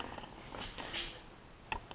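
A cat purring close by in a den setting beside stackable storage bins gives a faint, soft rumble for about two seconds, with a small rustle near the end.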